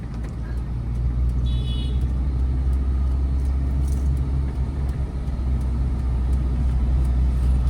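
A car pulls away in first gear on a road, its engine a loud, steady low rumble, with traffic noise around it and a voice giving instructions.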